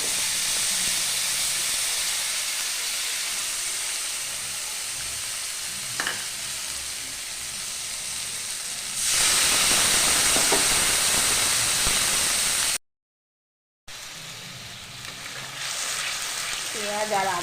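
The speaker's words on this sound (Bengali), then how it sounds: "পেঁয়াজ আর আদা বাটাটা মোটামুটি ভাজা ভাজা হয়ে গেছে" Onion and ginger paste with black cumin and bay leaf sizzling and frying in hot oil, a loud steady hiss with stirring, growing sharper partway through, with occasional talk.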